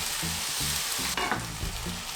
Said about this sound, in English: now it says to add in all of the sauce, and then we let it simmer for a bit.